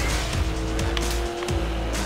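A car braking hard in the TTR World Tour racing game: a loud engine roar with a high tire squeal and skidding tones that sweep downward, close and continuous over about two seconds.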